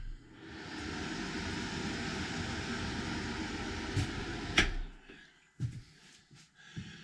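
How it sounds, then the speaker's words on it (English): A bathroom exhaust fan in a tiny cedar log cabin runs with a steady broadband whoosh for several seconds, then cuts off, leaving soft knocks and handling noises in a quiet room. "There is an exhaust fan in here."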